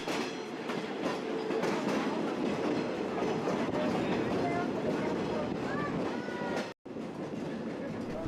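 A train rolls along rails through a green, oak-covered California canyon, a steady loud rumble with clickety-clack wheel rhythm and occasional squeals, continuous throughout with a brief dropout near the end.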